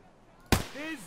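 A single sharp gunshot cracks loudly and close in Escape from Tarkov, cutting through quiet background and decaying quickly, followed by a short rising voiced exclamation.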